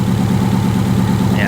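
A Mercedes GLE 450 engine idles with a misfire, a steady low rumble with a faint rhythmic pulsing in the exhaust, heard up close.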